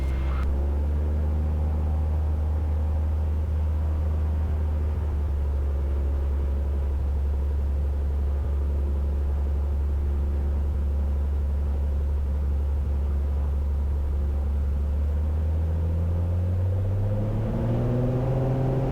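Small single-engine airplane at full power during takeoff roll, a loud continuous low droning engine and propeller rumble that holds steady and shifts pitch near the end, no talk.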